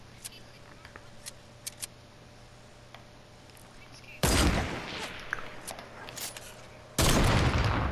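Sniper rifle fire in a video game while quick scoping: a few faint clicks, then two loud, sharp shots a few seconds apart, each trailing into a sustained noisy roar.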